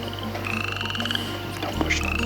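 Outdoor frogs croak in repeated, buzzy calls layered over one another, close and fairly loud against a steady low background hum, with no speech.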